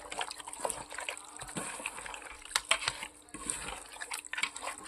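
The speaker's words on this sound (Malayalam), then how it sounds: "അല്പം വെള്ളം ഒഴിച്ചു കൊടുക്കുക." Water pours and trickles into a pot of beef rib curry, a soft, close, irregular splashing and dribbling that runs the whole time with no voices.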